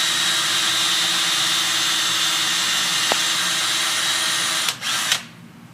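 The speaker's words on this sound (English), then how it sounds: "we'll continue to drill these holes." A power drill drills holes for a sagging screen hinge repair, whirring steadily at close range, then its motor winds down and cuts off near the end, leaving quiet.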